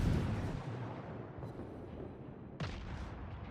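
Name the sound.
cruiser Atlanta firing shells, World of Warships video game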